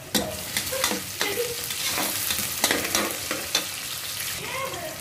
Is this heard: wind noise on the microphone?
no